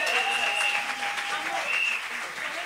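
A church congregation applauds in praise at a harvest festival, steady broadband clapping that holds for the whole stretch, fairly close and lively, with voices and a faint sustained tone running through it.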